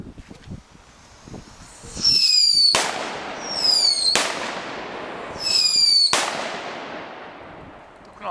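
Thunder rockets at the Fallas festival in Valencia whistle upward and burst in three sharp, loud bangs spaced about two seconds apart, each followed by a crackling tail and trailing echo over quieter background noise.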